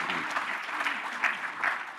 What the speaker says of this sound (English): Please give a big applause to Mr.